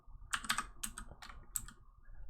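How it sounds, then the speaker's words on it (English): Keys on a computer keyboard clatter in quick, uneven bursts of typing, close and fairly quiet, with brief pauses between runs and no voices. "Oops, didn't finish typing it out."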